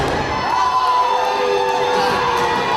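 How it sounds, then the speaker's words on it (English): A wrestling arena crowd roars in a mixed reaction, with sustained loud cheering, whoops and high shouts rising and falling together throughout, fairly close and continuous. "Well, a mixed reaction from this crowd"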